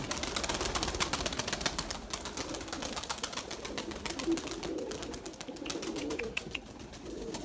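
Purebred Erzurum white pigeons coo softly and repeatedly, with faint wing flutters over constant outdoor background noise.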